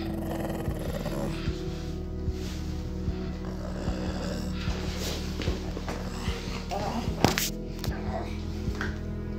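A dog protecting a child from a stranger growls in low, rumbling bursts, fairly close, under a steady background hum and a narrator talking over it.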